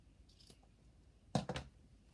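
Scissors snip twice in quick succession, close and crisp, trimming a decoration for a candy ice cream centerpiece for a baby shower, after a quiet lead-in.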